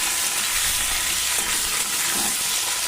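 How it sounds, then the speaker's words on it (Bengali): Potato pieces fry in hot oil in a pan and are stirred, a loud, close, continuous bright sizzle with soft scraping from the stirring underneath. "আলুর টুকরোগুলো দিয়ে কিন্তু আলুগুলোকে এবার একটু ভাজতে হবে নাড়াচাড়া করে"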